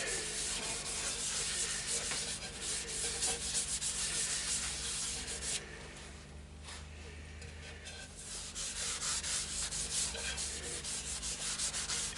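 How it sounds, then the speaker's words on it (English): Yorkshire Grit microfine abrasive rubbed onto a spinning idigbo and resin bowl on a woodturning lathe gives a steady, loud, close scratchy hiss that dips briefly midway and then resumes. "I'm just going to give it a coat of Yorkshire Grit microfine"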